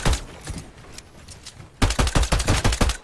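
Pistol gunfire in the Fortnite video game: a few scattered shots, then a rapid burst of about nine sharp cracks in quick succession, loud and close with no talking.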